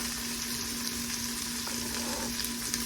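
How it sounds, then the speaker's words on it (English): Cut tomatoes hitting a hot pan of jambalaya, a loud, dense, continuous sizzle and crackle with a faint steady hum beneath and no talking. "we're going to add our tomatoes"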